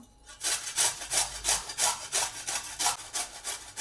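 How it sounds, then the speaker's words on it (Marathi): Beetroot is grated by hand on a grater over a large plate, a close, steady rasping with about a dozen rhythmic scraping strokes in quick succession and no talking. "आपण ही खिसणीवर बीट खिसून घ्यायचा आहे"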